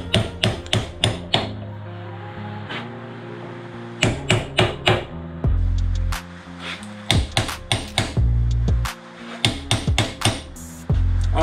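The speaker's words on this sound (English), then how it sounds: "I've got an air chisel here that I'm going to hit with a hammer." Sharp metallic hammer blows strike an air chisel in quick bursts of several hits while removing Land Rover Perentie radius arm bushes, with short pauses and a loud low hum from an engine or compressor between bursts.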